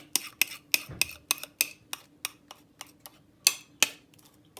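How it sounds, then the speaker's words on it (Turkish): A spoon scraping leftover San Sebastian cheesecake batter from a bowl, giving a string of sharp, close metallic clicks and taps at an uneven rhythm, with no talk. "Şimdi kaşık yardımıyla şu kalanlarını alacağım."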